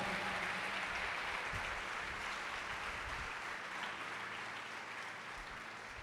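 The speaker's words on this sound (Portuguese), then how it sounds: "Dê uma salva de palmas a Ele bem forte" A church congregation claps loudly and steadily throughout, a dense wash of applause that slowly tapers slightly toward the end.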